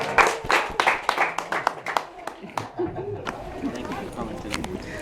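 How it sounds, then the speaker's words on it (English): A group of people clap their hands together at a tourist attraction in St. Ignace, Michigan. Sharp, irregular claps come close over the first half, then fade into chatter and voices. "And clap your hands together."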